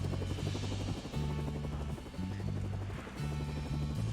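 Helicopter in a video game flies steadily through the clip, with a continuous droning rotor buzz holding level from start to finish and no talk over it.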